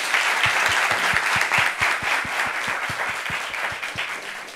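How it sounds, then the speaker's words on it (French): Audience applause at a French gathering of twins, a steady dense wash of clapping from a crowd, loud and continuous for several seconds with no talk over it. "Applaudissez-les, s'il vous plaît."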